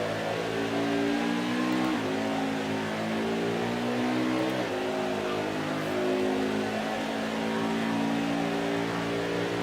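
A NASCAR Heat 5 race truck engine drones steadily through a victory lap at Martinsville, its pitch stepping through gear changes in a continuous, loud hum with no talking.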